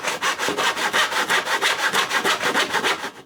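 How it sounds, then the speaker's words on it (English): A back saw cross-cuts a wood workpiece with steady, evenly spaced rasping strokes, close and loud, about three strokes per second, with no voices. "Now I'm actually sawing on my side here now"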